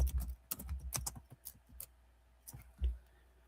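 Fast, irregular clicking of keys on a computer keyboard, a run of quiet close taps that thins out toward the end, with no talking.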